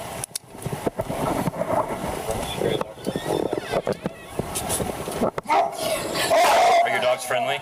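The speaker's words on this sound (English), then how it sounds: "Are your dogs friendly? They're friendly, but they sound rough." Dogs barking roughly from somewhere indoors at a home, several gruff barks scattered under ongoing conversation between people nearby.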